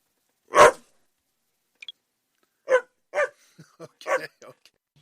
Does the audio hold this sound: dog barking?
yes